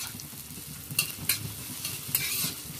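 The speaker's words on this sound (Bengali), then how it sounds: "লঙ্কা ভাজা তেলের মধ্যেই আমরা পেঁয়াজ ভেজে নিচ্ছি" Two thinly sliced onions fry in chilli-infused oil for aloo bhorta, giving a soft steady sizzle broken by a few sharp scraping stirs of the pan, with nobody talking.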